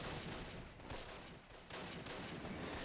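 Units fire in the World War II strategy game Close Combat, a dense, continuous wash of distant small-arms and machine-gun fire with no clear single shots, faint and steady throughout.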